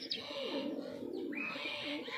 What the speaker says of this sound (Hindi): एक कबूतर है और ये इसके साथ मादी लगी हुई